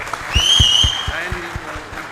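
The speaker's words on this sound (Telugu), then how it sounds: "అందరు చప్పట్లు" Applause breaks out at a Congress party meeting as new members are welcomed, with steady claps spread over about two seconds under a background voice.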